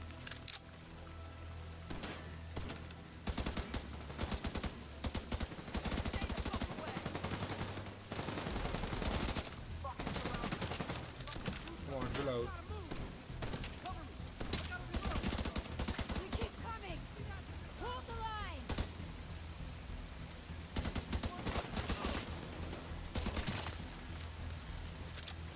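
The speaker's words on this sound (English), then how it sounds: "Keep firing. Take them out." Rapid gunfire in The Division 2, bursts of automatic shots and sustained fusillades crowding most of the stretch, with voices calling out in between.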